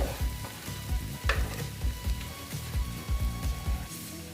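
Beaten egg sautéed in an oiled pan for a Bengali jackfruit curry, sizzling steadily while a spatula scrapes and stirs in a regular rhythm of about two strokes per second, close and fairly loud, with no talking.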